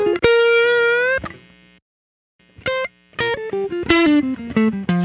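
Lightly compressed lead electric guitar plays sustained, slightly bent notes, pauses, then picks a descending run of separate notes, upfront and clean.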